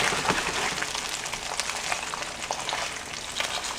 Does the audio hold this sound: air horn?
no